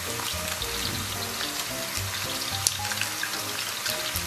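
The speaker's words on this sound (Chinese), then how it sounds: "咱们把葱姜蒜给它下进去，简单给它炒香" Scallion, ginger and garlic sizzling in hot oil in a wok, a steady, close crackle and hiss of frying that continues throughout.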